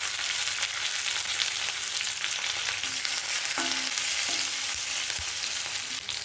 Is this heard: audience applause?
no